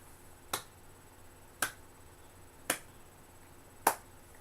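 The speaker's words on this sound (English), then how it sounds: "Slow clap." Four slow, evenly spaced claps ring out sharply, with quiet pauses between them and no voices.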